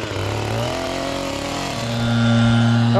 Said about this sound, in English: All right, so Renee's blowing down.